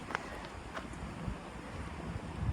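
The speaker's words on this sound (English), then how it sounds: "It's probably 40 degrees right now and the wind's blowing." Wind blows steadily outdoors in Shoshone, California, on a cold, sunny day, a continuous rumbling gust noise buffeting the microphone with no talking.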